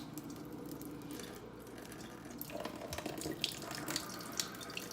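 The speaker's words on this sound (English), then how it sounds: "I choose to just do on the running water on it." Water runs steadily from a tap over a Japanese natural Asagi sharpening stone during honing, a continuous splashing hiss with faint scraping and a few drips, fairly quiet and close.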